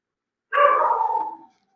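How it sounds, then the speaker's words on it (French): A pet dog howls from another room behind an indoor conversation, a single drawn-out howl of about one second that fades away into silence. "Je sais pas si tu entends mon chien derrière."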